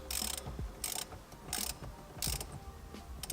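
A steering wheel fastener on an SRT8 is retightened by hand with a ratchet, heard as four short, sharp bursts of clicking, close and fairly loud, spaced evenly with quieter pauses between them.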